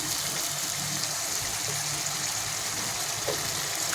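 Water pours steadily into a cooking dish, giving a continuous close splashing gush that runs evenly throughout with no talking.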